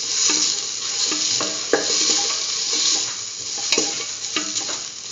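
Tomato and spice mixture stirred in a sizzling frying pan: steady frying hiss punctuated by sharp scrapes and clinks of a utensil against the pan, close and loud with no talk.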